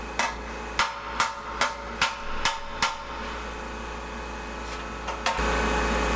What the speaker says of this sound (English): hammering and dollering it back in place, trying to get it to match and line up as it should